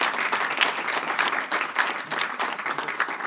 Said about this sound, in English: another round of applause for Professor KAO